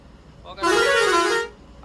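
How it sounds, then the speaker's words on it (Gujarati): A modified horn on a decorated GSRTC bus blares in one loud sustained tonal blast of under a second, strongly harmonic and rising slightly in pitch, with quiet background before and after. "આવા ઘણા પ્રકારના હોરન આપણે આ બસની અંદર આપણે વગાડે છે, કારણ કે અમિતભાઈ થોડુંક એમાં મોડિફાઈડ કરાવેલું છે."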